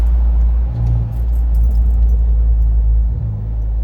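A Jeep JK fitted with an AFE Scorpion exhaust downshifts, giving a loud, steady low engine rumble with brief dips and swells as the revs change, and no voices.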